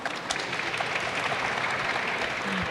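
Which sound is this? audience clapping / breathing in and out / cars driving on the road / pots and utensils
audience clapping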